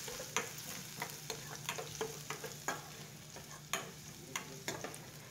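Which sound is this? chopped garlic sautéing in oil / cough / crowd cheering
chopped garlic sautéing in oil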